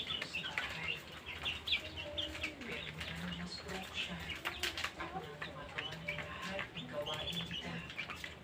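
Pet chicks chirp and peep continuously nearby, overlapping high calls with some low cooing mixed in, while a person talks over them.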